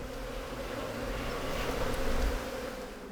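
A dense, continuous drone of many honeybees buzzing around a rescued and relocated hive, close and steady, rising slightly toward the middle with no voices.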